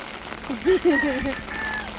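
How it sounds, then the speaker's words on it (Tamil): Steady rain falls in a broad hiss, with a person's voice speaking briefly over it near the start. "மழை எதிர்பார்க்காத விதமாக இன்னைக்கு மழை பேஞ்சிருச்சு நல்லா"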